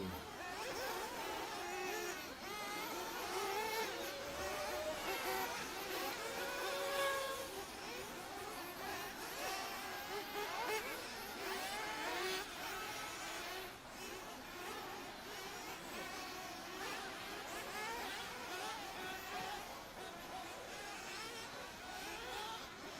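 Nitro RC buggies race at the start of a heat at an Asian buggy championship in the Philippines, their engines a faint, distant, wavering high whine that rises and falls continuously.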